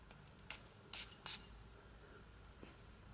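A Guerlain Mitsouko perfume bottle's sprayer pumped a few times, short soft hissy spritzes close by against a quiet room hiss, with no talking.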